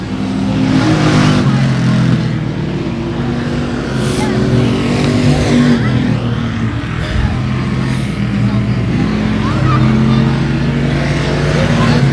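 Loud, continuous engine roar from a field of race cars lapping a dirt-style speedway at 281 Speedway, the drone rising and falling as cars pass, with an announcer talking over it.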